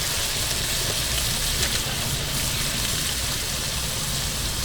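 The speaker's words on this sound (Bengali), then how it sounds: "জারটা ধুয়ে একটু জল দিয়ে দিলাম" Water from a rinsed grinder jar poured into a pan of cooking tomato chutney, a steady dense splashing hiss that runs evenly throughout.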